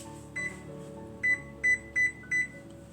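A kitchen oven beeps as it is set to preheat to 375 degrees: one short tone, then four evenly spaced electronic beeps, clear and close.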